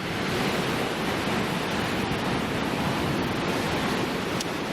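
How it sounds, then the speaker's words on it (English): Steady, loud wind roaring across an open beach by the sea at Doniford, with surf mixed into a continuous broadband rush that stays constant throughout. "that's enough of the wind"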